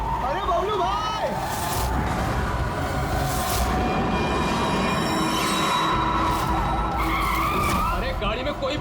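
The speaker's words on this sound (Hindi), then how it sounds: "पेड़ से जाके ठोकर दी गाड़ी।" A driverless car skids and smashes into a tree in a TV crime-drama scene, a long loud tyre screech with rumbling impact noise running nearly nine seconds, with voices talking over it.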